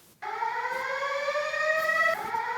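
Siren-like alarm tone tried out for a house music track, a steady sustained wailing pitch starting abruptly after a moment of quiet, with a slight shift in tone near the end; loud and continuous, no voices.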